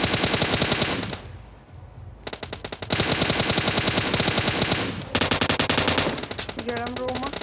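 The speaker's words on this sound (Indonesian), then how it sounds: "Iya gua tembak nih" Rapid machine-gun bursts from a video game shooter ring out loud and close in several long volleys separated by short pauses, with a brief voice heard near the end.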